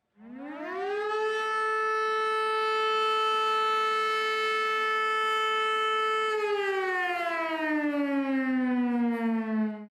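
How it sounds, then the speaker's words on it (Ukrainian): A Ukrainian civil defense siren sounding the "Attention everyone" emergency signal winds up to a loud, sustained wail, holds a steady pitch for several seconds, then slowly drops in pitch. "Єдиний сигнал, який подається під час будь-якої надзвичайної ситуації, це сигнал Увага всім."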